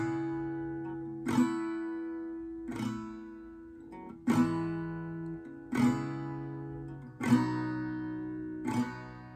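Acoustic guitar strumming the chords of a song, the studio version: six ringing chord strokes spaced about every one and a half seconds, each one left to sustain and fade, clear and close with no voice.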